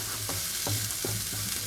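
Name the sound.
stirring chili pakora filling in a pan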